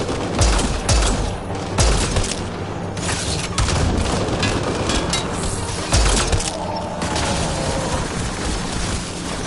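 Repeated gunfire in a dense, loud barrage, sharp cracks and booms recurring every second or two over a constant roar of combat noise, with no voices.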